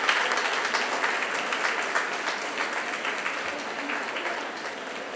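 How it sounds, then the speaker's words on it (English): Sustained applause from a seated audience at a 75th jubilee celebration honouring a sister, dense steady clapping that tapers only slightly over several seconds. "A big round of applause for Sister Rose Abraham"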